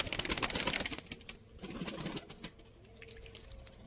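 Pet pigeons cooing close by, a dense burst of soft repeated coos at first, then quieter scattered calls with faint rustling.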